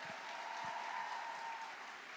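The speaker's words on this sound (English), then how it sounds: "Let's hear a big round of applause." A conference audience at the Wonder Women Conference of the Halifax Chamber of Commerce applauds: a steady, dense wash of clapping, fairly distant and even in level throughout.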